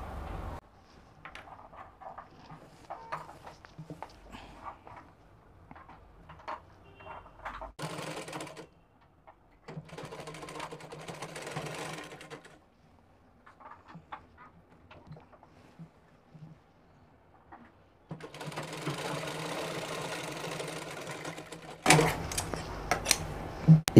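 A sewing machine stitches a half-inch seam on the crotch piece of palazzo pants, running in several separate bursts of rapid mechanical whirring with quiet pauses and handling noises between them.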